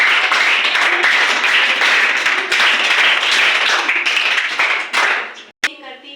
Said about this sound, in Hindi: एक बार फिर से स्काउट ताली हो जाए तीनों बच्चों।